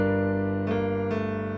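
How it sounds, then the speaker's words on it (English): Synthesized piano preset playing dry with no effects, sustained chords with two fresh note attacks, loud and close, alone without any voice. "So this is how it sounds without any plugins"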